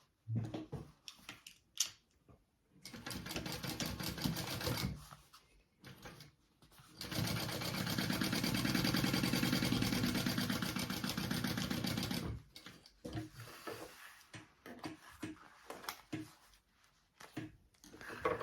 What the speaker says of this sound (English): we are going to sew these edges shut